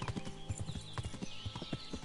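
Horse hooves clip-clop in steady, even rhythm on a road in Kingdom Come: Deliverance, close and clear, with a faint whinny in the mix.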